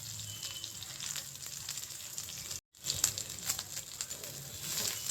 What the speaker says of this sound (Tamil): வெங்காயமும் பூண்டும் லேசாக வதங்கப்பட்ட உடனே கலர் சேஞ்ச் ஆகிடுச்சு வெங்காயம்